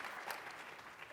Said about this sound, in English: Give a round of applause to the organization